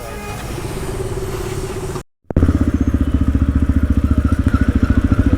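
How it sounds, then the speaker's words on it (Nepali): A KTM Duke 390 motorcycle engine rumbles close and loud, with a steady pulsing throb that cuts out briefly, then resumes with strong rhythmic firing pulses as the bike rides on. "ड्युक 390 चलाइरहेछ"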